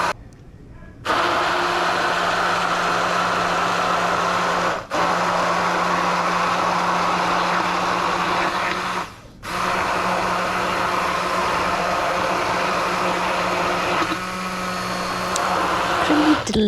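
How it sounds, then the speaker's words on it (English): An electric blender whirs steadily while blending homemade mayonnaise, a loud continuous motor drone broken by two brief stops before restarting. "don't take out the blender or don't move it, just keep blending it, and it will start to thicken on the bottom"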